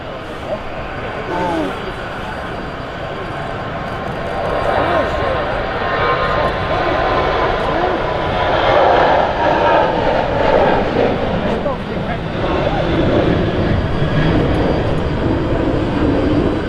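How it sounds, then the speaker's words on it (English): KLM jet airliner taking off on a wet runway, a steady broad engine roar that builds and holds loud through the clip, with people talking over it. "Also got a KLM rolling as well on the runway."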